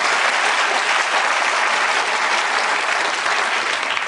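A television studio audience breaks into steady, dense applause, loud and continuous throughout with no voices rising above it.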